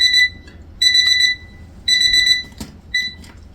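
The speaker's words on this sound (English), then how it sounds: "Sorry, an alarm went off and I'm not, my timer." A timer alarm goes off close by in a series of loud, bright electronic beeping bursts, roughly four pulsed clusters with short gaps between them, with a brief soft knock partway through and no talking over it.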